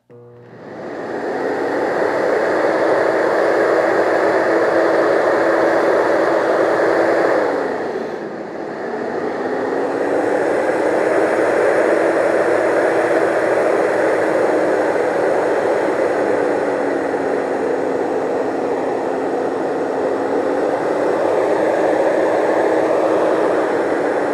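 A Thomas Twin TT vacuum cleaner switched on, spinning up into a loud steady whine and roar, dipping briefly as the motor or power setting changes, then holding a continuous high drone with no voices.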